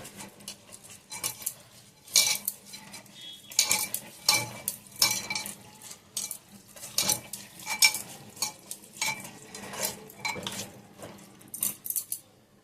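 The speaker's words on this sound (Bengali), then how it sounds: "তেল দিয়ে দেবো এবার এই চাল ডাল সবজি লঙ্কা সব একসাথে মাখবো" Rice, lentils, vegetables and chilli are mixed with oil in a bowl by hand, making repeated squelchy, clattering stirs in irregular bursts close up, with light knocks against the bowl.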